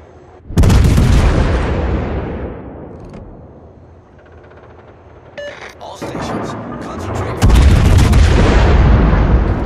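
Heavy naval gun salvos from the German warship Clausewitz in a World of Warships naval battle, a loud booming burst, then a quieter rumbling stretch, then a second big salvo near the end, with voice chatter mixed underneath.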